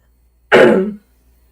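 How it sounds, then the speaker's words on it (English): A single short, close cough or throat-clearing burst lasting about half a second, with silence before and after. "I had to cough it out"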